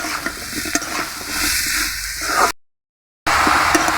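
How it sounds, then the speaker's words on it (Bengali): A spatula stirs sponge gourd pieces through chili powder and turmeric in a sizzling pan, giving a steady scraping, frying hiss up close that cuts out briefly before resuming. "দুধ ছুনির সাহায্যে এভাবে নাড়াচাড়া করতে হবে"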